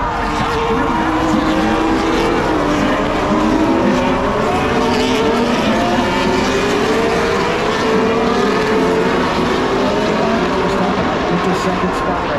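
Formula 1 race cars at the Miami Grand Prix roar past at a distance, a continuous loud engine drone with rising and falling pitch sweeps, mixed with crowd or commentary noise throughout.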